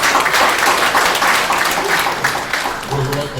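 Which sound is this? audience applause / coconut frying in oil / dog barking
audience applause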